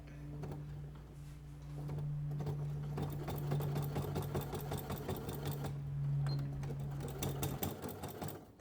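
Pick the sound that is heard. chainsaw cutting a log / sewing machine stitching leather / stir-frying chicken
sewing machine stitching leather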